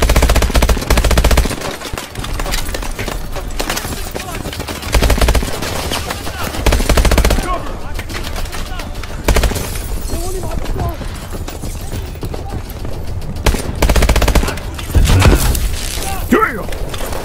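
Heavy automatic gunfire from Call of Duty: Advanced Warfare, loud sustained bursts of rapid shots with breaks and thuds, while a voice talks over the combat.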